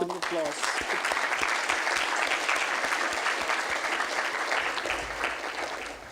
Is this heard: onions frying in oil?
no